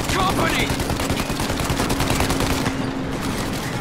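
Gunfire aimed at a large vehicle in Mafia Definitive Edition, heard as a sustained loud barrage of rapid shots over a low engine drone, lasting several seconds without a break.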